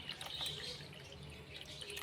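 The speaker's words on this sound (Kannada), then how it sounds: "ಇವಾಗ ಈ ನೀರನ್ನು ಇದಕ್ಕೆ ಹಾಕೋತೀನಿ ನೋಡಿರಿ" Water being poured from a small bowl into milk powder in a cooking pot in a home kitchen, a soft continuous trickle and splash heard faintly against background noise.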